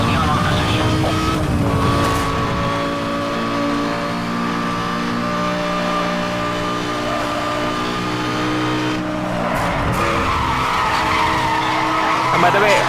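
A Lamborghini Gallardo in the video game Need for Speed Hot Pursuit drifts with continuous loud tire skidding over a revving engine, the squeal sustained throughout and spiking near the end.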